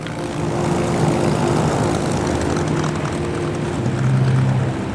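Propeller-driven RAF Fighter Command warplanes of the Second World War drone steadily in flight, a sustained engine roar holding for several seconds with a slight swell near the end.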